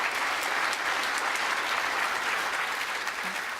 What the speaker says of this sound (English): You asked for applause.